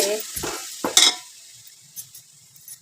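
Chopped tomatoes tipped into frying onions for mutton nalli biryani, with a couple of close utensil scrapes and a clink up front, then a soft low sizzle trailing away.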